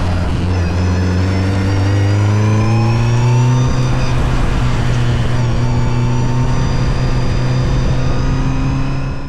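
A loud, steady Mitjet 2.0L race car engine drone that climbs in pitch as it revs, close and continuous throughout with no pauses.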